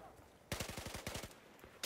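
Automatic rifle fire in Battlefield 4 on hardcore mode, Dragon Pass map: a short pause, then a rapid burst of about a dozen evenly spaced shots, followed by one more report at the end, all fairly quiet in the mix.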